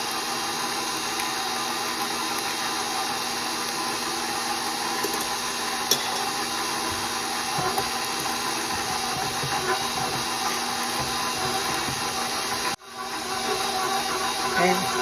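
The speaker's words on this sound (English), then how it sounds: "We're going to turn the mixer on" An electric stand mixer whirs steadily while two sticks of butter are beaten for chocolate chip cookie dough. The hum is continuous and moderately loud, cuts out abruptly near the end, and then resumes.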